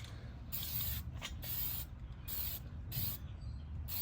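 Rust-converting spray paint hisses in several short bursts onto an ornate metal wire chair, each spray lasting about half a second to a second with brief pauses between, close by and fairly quiet over low background rumble.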